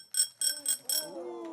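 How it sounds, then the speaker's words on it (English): A bicycle bell that lights up, rung four times in quick succession with bright metallic dings, then a lingering ringing tone, close and clear with no talk over it. "A bell for your bicycle that lights up."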